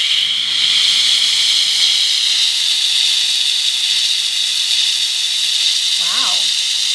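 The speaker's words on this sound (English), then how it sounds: "This is actually a fabric steamer, so you can steam curtains, freshen up fabrics" A fabric steamer sends out a steady, loud hiss of steam for several seconds, and a short voice sound rises briefly near the end.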